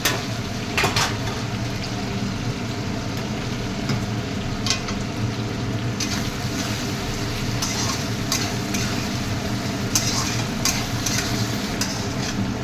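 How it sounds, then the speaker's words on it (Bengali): Chicken balls stirred in a frying pan, giving a steady bubbling sizzle with occasional soft utensil clicks and scrapes, close and continuous without talk. "এবার মাংসটা দিয়ে নাড়বো, যে এই চিকেন যে বলগুলো করেছি সেই বলগুলো দিয়ে এখান দিয়ে নাড়বো আমি।"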